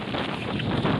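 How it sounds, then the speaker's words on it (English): Strong wind buffets the microphone at a freezing wild camp during heavy rain, a brief, close, steady rushing roar with no other sound standing out. "it is windy and freezing cold"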